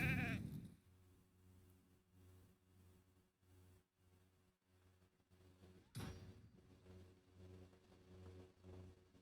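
Sheep bleats from the RAID: Shadow Legends video game, with a loud opening bleat followed by a quieter rhythmic game soundscape and a second sharp burst about two-thirds through.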